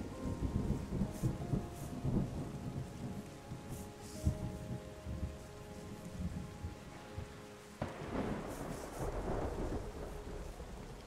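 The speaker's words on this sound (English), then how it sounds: "Oh, we got some rain, chat." Rain and thunder in the video game Terra Nil: steady rainfall hisses throughout while rumbling thunder rolls in and swells loudly near the end, with no talking.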